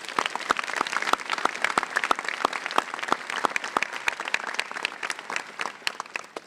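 An audience at a Redlands High School graduation ceremony claps for the graduating students, with sparse, irregular hand claps that sound fairly close, continuing steadily throughout with no voices.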